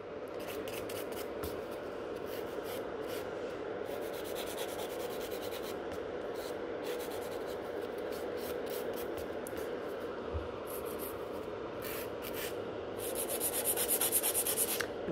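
Gel nails being filed down during a salon infill, a steady close scratchy rubbing that continues throughout with a few sharper strokes, getting slightly louder toward the end.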